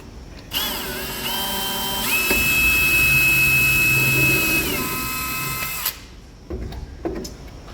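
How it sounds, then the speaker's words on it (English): A power drill pre-drills through the gel coat flange of a wood-bottom shower pan, running loud and close for about five seconds with a rising whine, then stopping, followed by a few small clunks. "So then we're going to pre-drill so we can avoid cracking that gel coat."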